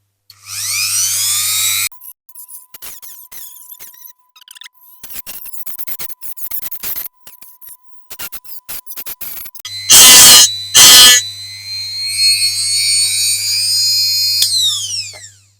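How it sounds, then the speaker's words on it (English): A rotary grinding wheel cuts into a pointy rivet holding the glass on a Dinky diecast Plymouth Plaza model car, giving loud, harsh, high whining bursts, two especially intense ones near the end, between quieter stretches of scraping and ticking. "the glass is held in by a rivet, so we'll get the same grinding wheel on that."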